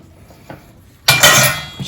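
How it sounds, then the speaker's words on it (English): Salt being stirred into water for a fermented hot sauce brine, with a metal utensil scraping and clinking against the container in a couple of loud, close bursts after a quiet start. "Stir that well so it dissolves."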